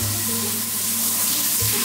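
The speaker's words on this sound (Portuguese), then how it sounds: "Deixa a água escorrer um pouco, porque tá gelado" Steady hiss of water pouring from a gas-heated shower, close and continuous with a faint low hum underneath, no talk.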